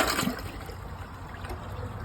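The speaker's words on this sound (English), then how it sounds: "So we'll give this toilet a flush and see how it flushes." A Niagara Stealth toilet flushes, with a steady, close rush of swirling water that holds an even level for a couple of seconds and has no talk over it.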